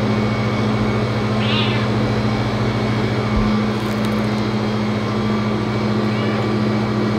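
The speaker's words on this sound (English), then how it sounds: "And we've got our professional seasoned mouser, Honey." A cat meows once, fairly close, over a steady low mechanical hum that runs throughout.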